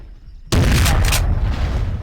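A single loud gunshot blast in a video game erupts suddenly after a near-silent moment, its heavy report and echo sustaining and slowly decaying over the following second and a half.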